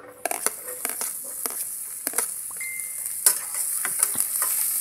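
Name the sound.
sautéing garlic and onion in a pan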